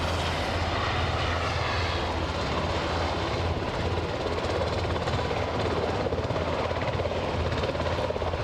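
An Aer Lingus ATR turboprop takes off at Aberdeen airport with a steady, loud propeller and engine drone that holds unbroken throughout.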